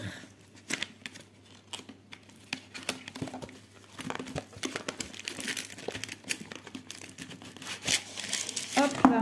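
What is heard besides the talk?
plastic film being peeled off a diamond painting kit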